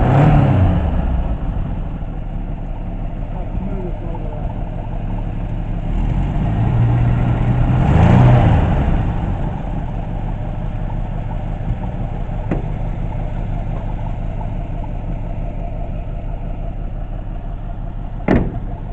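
A 1936 Nash coupe engine cranks on the starter button, catches and settles into a steady, smooth idle, with a brief rev swell midway, running loud and close.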